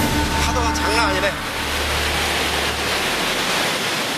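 Jinsha River, the upper Yangtze, rushing through the narrow Tiger Leaping Gorge in Yunnan, a steady loud broadband roar of turbulent water filling the whole stretch, with a brief voice over it at the start.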